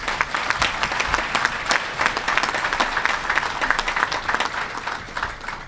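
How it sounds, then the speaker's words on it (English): Audience applause at a scholar-athlete luncheon honoring student athletes, a steady dense round of clapping filling the room throughout, fairly loud with no voices over it. "give a little round of applause for the 34 student athletes"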